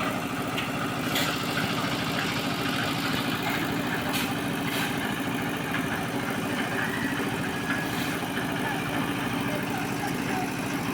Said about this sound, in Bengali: এই যে ডালাইয়ের মেশিন দেখতেই পারতেছেন।